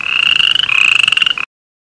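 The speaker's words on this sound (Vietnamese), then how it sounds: "Con cóc." A toad croaking loudly and close, one sustained trilling call that runs for about a second and a half and then stops abruptly.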